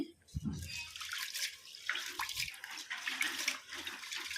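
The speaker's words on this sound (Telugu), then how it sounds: "నీళ్ళు పోసి రెండు మూడు సార్లు మంచిగా పిసికి పిసికి కడుక్కోవాలి ఇది" Chana dal being washed by hand in a bowl of water, squeezed and rubbed two or three times; soft sloshing and swishing water with faint splashes, close and quiet, continuing throughout.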